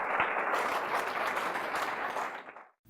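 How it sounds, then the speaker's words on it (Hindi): A dense wash of crowd applause fills a Christian worship gathering, loud and continuous, then cuts off abruptly just before the end. "जोरदार तालियां बजाएं।"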